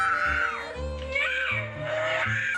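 A young toddler boy shrieks in a family home, high strained wails rising and falling across a few seconds, close and loud, with a low hum underneath.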